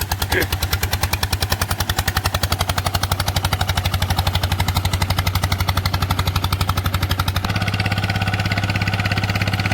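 A loud three-cylinder engine runs steadily with a rapid, regular chugging pulse that continues throughout, shifting slightly in tone near the end.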